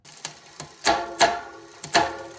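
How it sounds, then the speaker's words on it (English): Irregular sharp clicks and clacks from an incorrectly installed bicycle chain skipping over the rear cassette cogs, several close mechanical snaps in quick succession. "That clicking is coming from my chain sliding over the cassette on my bike"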